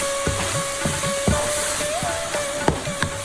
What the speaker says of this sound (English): Add the 1/4 cup milk gradually to the mixture and stir.